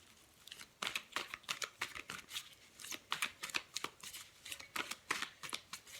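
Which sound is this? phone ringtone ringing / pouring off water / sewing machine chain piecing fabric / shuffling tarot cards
shuffling tarot cards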